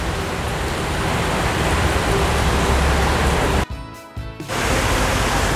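Steady, dense rain pours down over Pratunam, Bangkok, a loud continuous hiss that briefly drops away and muffles near the end before returning.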